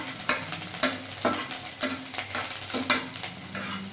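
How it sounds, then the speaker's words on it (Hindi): Garlic sizzles in hot oil in a kadhai, with a continuous crackling fry and periodic stirring scrapes, close and fairly loud, with no talking. "ऐसे लहसुन डाल के इसको ब्राउन होने तक भूजेंगे"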